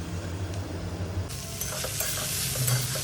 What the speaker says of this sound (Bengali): আবার ঢাকা খুলে নেড়ে নিয়েছি। বেশ ভাজা ভাজা হয়ে এসছে।